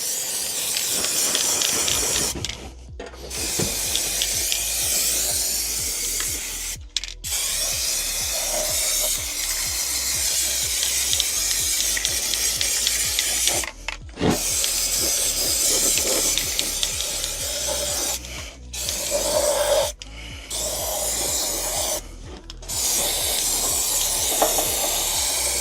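Coating sprayed from an aerosol onto a Mini Cooper S Cabrio rear subframe, a loud steady hiss in long bursts broken by a few short pauses, close up with no talking.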